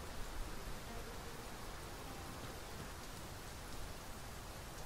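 Steady, even rain in the video game Dragon's Dogma 2 hisses throughout with no breaks, a soft continuous wash of falling drops at moderate level.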